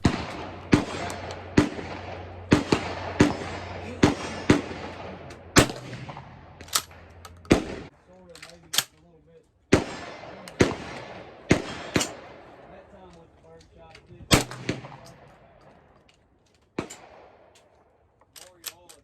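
12 gauge shotgun firing 2 3/4 inch double-aught buckshot through a modified choke, a rapid series of loud sharp blasts with ringing decays, some spaced closely and some after pauses, with faint voices between shots.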